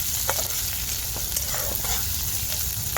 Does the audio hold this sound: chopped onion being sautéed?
yes